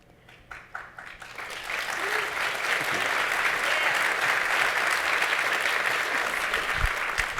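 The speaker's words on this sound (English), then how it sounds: "I was hoping if I just paused a second before my question, you'd applaud." An audience at a design interview event bursts into applause, starting with a few scattered claps and swelling into sustained, dense clapping from a large crowd, loud and steady until the end.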